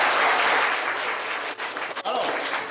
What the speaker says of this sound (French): applaudissez pour Apollinaire.